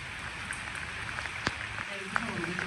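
Monsoon-season rain falls steadily over a village vegetable garden, a soft, even hiss of drops with a few sharper close patters, faint and continuous with no talking over it.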